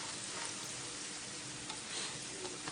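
Ingredients sautéing for a fish curry, a dense, even hiss of frying with faint scattered clicks, steady and close throughout, no voices.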